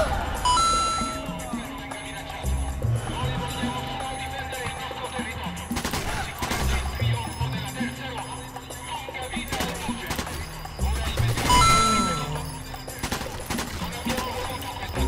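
Gunfire in the video game Sniper Elite 4: scattered shots and bursts mixed with game music and effects, with voices talking throughout.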